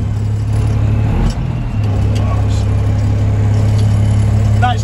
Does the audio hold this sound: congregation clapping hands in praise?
no